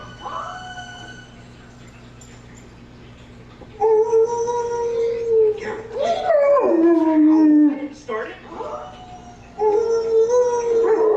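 Dog howls from a video playing on a TV, long wavering tonal howls in several drawn-out bursts with quiet gaps between, over a low steady hum.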